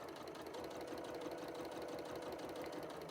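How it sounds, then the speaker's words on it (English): Close by, a sewing machine stitches foundation paper piecing at a steady, moderate pace, its needle giving a continuous even mechanical chatter with no talking. "and then I can start sewing."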